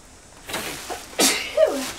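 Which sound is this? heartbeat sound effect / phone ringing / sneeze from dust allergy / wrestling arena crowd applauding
sneeze from dust allergy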